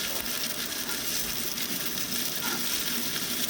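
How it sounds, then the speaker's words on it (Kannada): Chopped onion and curry leaves fry in hot oil for a bitter gourd dish, a steady soft sizzle running through with no talk. "ಈರುಳ್ಳಿ ಮತ್ತು ಕರಿಬೇವನ್ನ ಹಾಕಿ ಬಾಡಿಸ್ತಾ ಇದ್ದೀನಿ"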